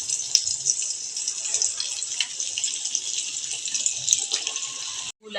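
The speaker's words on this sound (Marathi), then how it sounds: "आता हे तेल तापलेलं आहे, आता एक एक तेलामध्ये तळायला सोडूया।" Mixed veg cutlets coated in breadcrumbs sizzle steadily in hot oil, a continuous bright hiss of frying with small crackles and pops, close and fairly loud, cutting off abruptly at the end.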